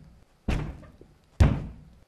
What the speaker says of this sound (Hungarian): óriási nagy dörömbölésre lettek figyelmesek.